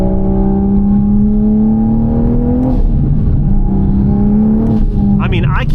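Loud, close Toyota Supra with about 840 wheel horsepower on E85 and a full titanium exhaust, giving a deep, raspy exhaust drone, its pitch climbing and dipping as the throttle is worked.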